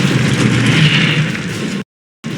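Incendio fire spell cast in Hogwarts Legacy, a loud, dense burst of roaring flame and low rumble that fades gradually over about two seconds before a brief cut to silence and a short return.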